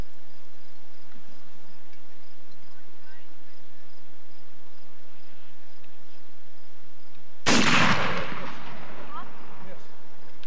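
Single loud rifle shot at an outdoor black-powder rendezvous shooting competition, sharp crack around three-quarters through, with a rolling echo decaying afterward over quiet outdoor ambience.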